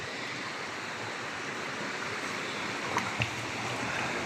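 Strong river water rushes through a forest gorge, a steady, loud broadband roar close by with a couple of brief splashy knocks near the end, and no voices.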